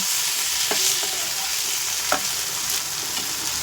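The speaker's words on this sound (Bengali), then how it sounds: "এবারে এই পর্যায়ে আমি ভেজানো চালটাকে দিয়ে ভালো করে মিক্স করে নেব" Soaked rice is stirred into spiced chicken frying in a pan, giving a steady loud sizzle with a few scraping stir strokes, and nobody speaks.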